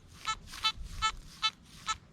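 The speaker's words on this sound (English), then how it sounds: "the Simplex, it's getting a tone, but no target ID is coming up on the screen" A Nokta Simplex+ metal detector sounds its target tone over a target buried about 10 inches deep: five short, evenly spaced beeps, fairly quiet, with no other sounds.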